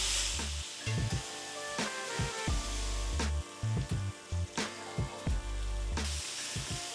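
Salted pieces of food sizzle steadily in a hot pan, with a few dull thumps and scrapes as they are flipped over, close and continuous throughout.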